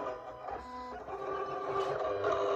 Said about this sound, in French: Je démarre la découpe.